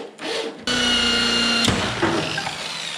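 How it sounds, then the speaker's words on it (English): Long metal bolts are cut down with a power tool during an off-road mower build: a harsh, loud whining grind with a sustained tone starts after a brief lead-in, rasping on with small surges and a sharp catch midway. "I found a couple of long bolts. So I'm just gonna end up cutting these down."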